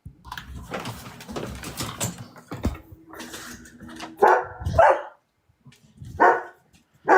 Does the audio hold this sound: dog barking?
yes